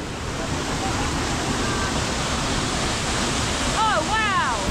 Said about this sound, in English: Here we go, waterfall number three.